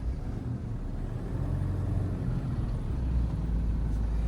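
A stationary car's engine idles with a steady low rumble while the steering is turned fully to lock, the drone continuous and even throughout with no voices.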